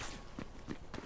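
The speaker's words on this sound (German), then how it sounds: "dann muss ich jetzt hier wieder zu Fuß laufen" Footsteps walking in Borderlands 3: three or four soft, evenly spaced steps, faint under a constant ambient background wash, with no talk.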